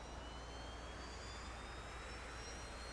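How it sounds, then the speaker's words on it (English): T-45C jet engine at full throttle on a carrier deck in a flight simulator, a constant loud roar with a thin high whine held steady throughout, no voices. "Increase throttle to maximum power"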